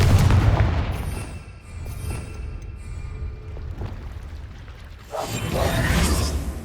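A Confringo spell explosion in Hogwarts Legacy, a loud rumbling boom with a swooshing blast that fades into a lingering roar before a second surge of rumble near the end.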